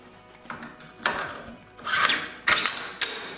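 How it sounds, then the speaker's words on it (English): A charging handle and modified bolt are slid into a gas-piston Adams Arms AR-15 upper, giving close metallic scrapes, rubs and a few sharp clicks in several separate bursts. "what we're gonna do now is put the charging handle in"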